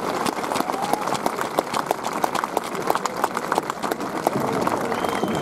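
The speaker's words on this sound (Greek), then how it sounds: "ο πρώην εισαγγελέας κύριος Σακάς, να τον υποδεχτείτε με ένα θερμό χειροκρότημα." Applause from a crowd at an Athens rally against the citizen card, greeting a speaker as he comes to the podium: loud, dense clapping with sharp individual claps standing out, sustained throughout with a busy crowd murmur underneath.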